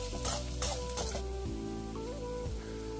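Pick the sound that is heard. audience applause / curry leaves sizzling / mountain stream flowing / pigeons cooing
curry leaves sizzling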